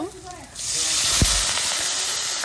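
Water poured into a hot wok of lightly fried onion and green chili sets off a sudden loud, sustained hiss of steam that fills the space and keeps going after a quieter start.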